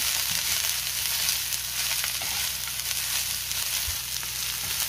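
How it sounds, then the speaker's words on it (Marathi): Finely chopped coriander for chutney sautéing in a pan, a steady, loud, close frying sizzle that holds without a break and with no talk. "कोथिंबीर टाकल्यावर सुद्धा मी 2 मिनिटं चांगलं परतून घेतलेले"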